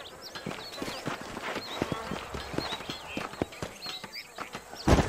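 Horse hooves clip-clop steadily in Red Dead Redemption, a run of close, crisp hoofbeats with faint ambient chirps in the background and a louder knock near the end.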